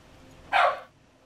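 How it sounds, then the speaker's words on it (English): A single short bark from a dog in the game Hades, fairly close and clear, standing alone against a quiet background. "Why are you barking?"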